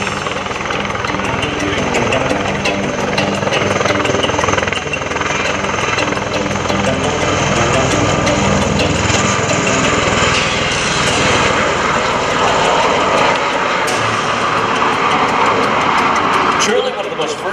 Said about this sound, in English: Let's watch now as the MV-22 Osprey demonstrates the rolling takeoff